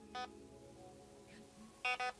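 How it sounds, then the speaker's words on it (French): Two quick electronic beeps from the mode selector of a Grand Power R15 Freya airsoft pistol, faint and close, after a single earlier beep. "Deux bips burst."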